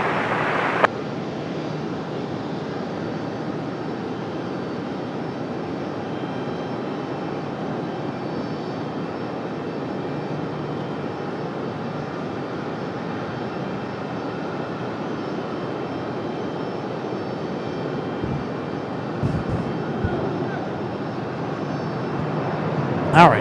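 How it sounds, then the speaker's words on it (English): An American Airlines Boeing 777 at Raleigh-Durham International Airport gives a steady, broad jet roar that holds at a constant level throughout, with a few brief knocks near the end. "here comes the American 777"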